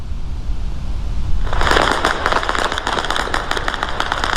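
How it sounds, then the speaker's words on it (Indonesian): Rapid, crackling bursts of gunfire in Erbil, Iraq, during missile attacks and air interceptions, start after a rumbling background, popping in quick irregular volleys over a low roar, moderately loud and distant. "rentetan senjata dan ledakan terdengar di berbagai titik kota Erbil"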